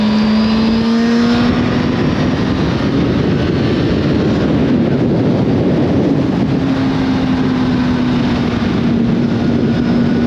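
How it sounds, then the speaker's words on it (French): A steady, loud engine drone with a slowly shifting pitch, running continuously like a motorcycle cruising along, with wind noise mixed in. "on entend mieux le bruit du moteur du coup là"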